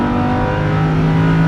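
A Lamborghini Huracan LP610-4 V10 engine roaring under full throttle on a race track, a loud, close, steady rising growl filling the whole moment.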